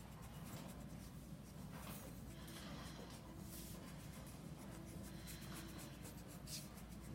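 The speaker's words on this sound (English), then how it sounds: "and draw my line down." Pencil drawn along a ruler across paper while sketching podiums, a steady soft scratching rub that runs close and quiet through the whole stretch, with no talking.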